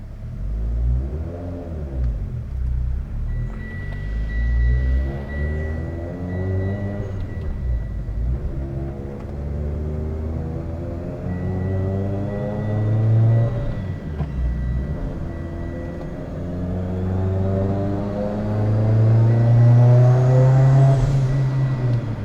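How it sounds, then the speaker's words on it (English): Tuned Mitsubishi Evo X on E85 with a Garrett G35-1050 turbo, Kelford 214-b cams and Carrillo H-beam rods, revved repeatedly near the listener, swelling to high rpm and falling back, with a rising turbo whine near the end. "Let's do some throttle."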